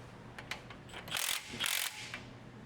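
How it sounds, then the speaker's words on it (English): Ratchet tightening bolts while installing a rear sway bar on a Toyota TRD Pro, faint clicks followed by two short bursts of quick ratcheting, close but quiet against a low background hum. "And we'll just tighten up a few more bolts here."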